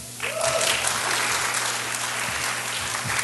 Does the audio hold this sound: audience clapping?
yes